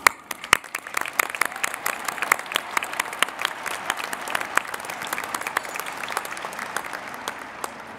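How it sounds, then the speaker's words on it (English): Applause from a crowd at the Minnetonka High School 2023 graduation, a spacious, continuous patter of many hands with distinct sharp claps standing out nearby, steady for the full stretch at moderate loudness. "Let's give them all a huge round of applause."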